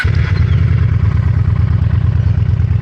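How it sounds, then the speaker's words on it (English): A 17-year-old Honda Shadow motorcycle idles with the mufflers removed from its original exhaust pipes, giving a loud, close, steady rumbling throb with rapid regular pulses and no talk. "We're going to turn it on so you guys can hear the exhaust on this one."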